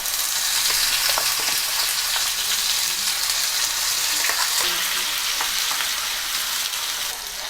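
Okra masala paste of ground onion and tomato frying in oil with curry leaves and bay leaf, giving a constant close sizzle and crackle with faint stirring scrapes, no voices.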